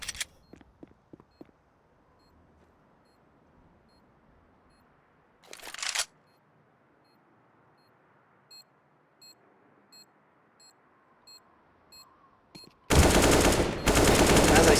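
Counter-Strike gunfire on the Nuke map: a few sharp early shots and a short burst, quiet stretches with faint beeps, then a loud sustained spray of automatic fire at the end.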